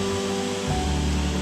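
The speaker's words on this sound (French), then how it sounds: "On a la cascade avec un arc-en-ciel." A waterfall in the Blue Mountains of Australia gives a steady, broad rushing roar, heard from a distance and continuous throughout, with no voices.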